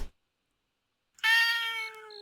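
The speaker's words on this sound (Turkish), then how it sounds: "Kedinin sesini duyuyorum ama kendisini göremiyorum şu an." A single drawn-out cat meow from a video game, clear and close, rising sharply after a second of silence and trailing off gradually.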